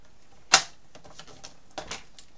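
Paper strip for a Christmas album being cut, a sharp close snip followed by lighter rustles and another pair of crisp paper sounds, no talking.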